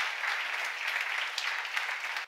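A church congregation claps steadily through a sermon seminar, dense continuous applause from a gathered crowd that cuts off sharply near the end.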